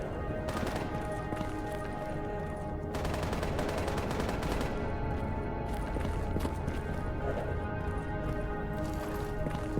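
Gunfire from a video game firefight in STALKER GAMMA, repeated shots and bursts crackling through a dense, constant mix of game ambience and movement.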